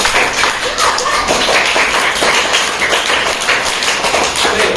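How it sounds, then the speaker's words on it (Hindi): Children in a classroom clap together, loud close rapid irregular clapping that continues throughout without talk. "सभी लोग जोरदार तालियां बजाएं।"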